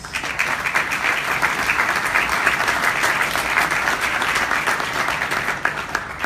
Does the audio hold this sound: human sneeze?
no